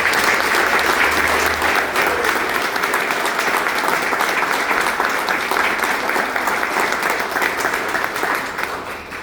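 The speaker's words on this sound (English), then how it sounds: "if we could all give a big round of applause for our fire department and everybody else" Sustained audience applause fills a fire station reopening ceremony, a dense crowd of clapping hands that stays loud and steady before tapering slightly at the end.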